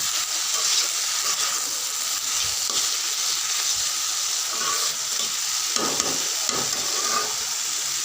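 Pumpkin pieces fry in a pan with a loud, continuous sizzle that never lets up. Intermittent scraping and stirring strokes sound close by underneath it.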